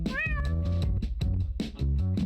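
A cat meows loudly and up close in a short comedy clip, a long drawn-out rising cry followed by a few shorter meows and scuffling.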